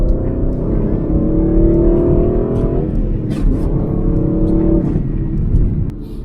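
A 2015 Aston Martin Vantage GT with a naturally aspirated engine pulls hard, its loud, close exhaust note climbing through the revs, shifting, then climbing again under steady road noise.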